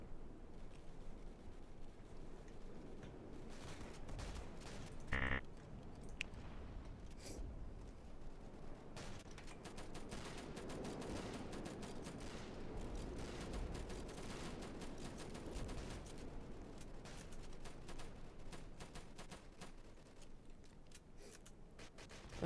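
Bursts from an MG42 machine gun fire in a Roblox video game, coming as scattered, fairly faint rattling volleys over a constant washy background noise for a long stretch.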